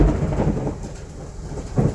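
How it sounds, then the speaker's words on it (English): Steady rain and low rumbling thunder during a summer storm, a continuous wash of noise with heavier low swells near the start and end, no voices. "I don't know if you can hear the rain or the thunder"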